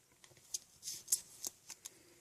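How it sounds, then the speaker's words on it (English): Scissors snip through a piece of card to cut it in half, a handful of short, crisp cuts in an irregular rhythm, close and fairly quiet with no talking. "So this one I'm going to cut in half."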